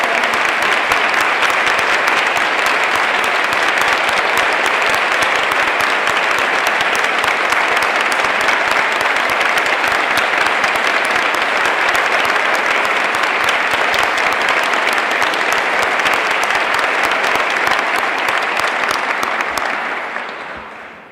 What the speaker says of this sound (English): let's give all three of them a big round of applause